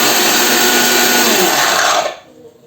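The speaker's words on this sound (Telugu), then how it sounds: "ఇప్పుడే నువ్వు మిక్సీలో పని ఉంది అని వచ్చి ఇక ఇట్లా ఆన్ చేస్తా" A kitchen mixer grinder (mixie) grinds pulses into powder, a loud steady high-pitched whine running for about two seconds before abruptly spinning down, no talk.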